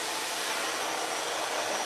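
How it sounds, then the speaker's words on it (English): Hair dryer running on its high setting, a steady, loud broadband whoosh of blowing air held close and continuous with no pauses. "My blow dryer is on high."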